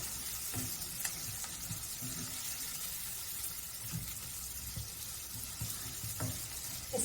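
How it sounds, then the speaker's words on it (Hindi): Green chilli, onion and capsicum frying in mustard oil give a steady close sizzle, with soft intermittent stirring and scraping strokes and no talking. "वो डालेंगे और उसको भी मिलाकर थोड़ा सा चलाएंगे ताकि हरी मिर्च, प्याज, शिमला मिर्च थोड़े से और सॉफ्ट हो जाए।"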